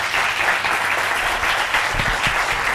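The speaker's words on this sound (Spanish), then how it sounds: "Un aplauso para ella, por favor." Audience applause for a speaker at a talks event, a loud, continuous crowd of hands clapping steadily throughout, with no voices on top.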